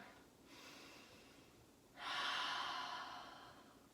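Heavy breathing during a vinyasa yoga class: a soft breath, then a loud, drawn-out exhale starting about halfway through that fades slowly, close and with no talk.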